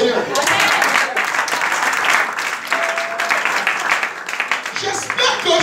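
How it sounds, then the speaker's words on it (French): A church congregation applauds in a loud, sustained burst of clapping that fills the room, steady throughout with voices mixed in. "Acclamons le Seigneur"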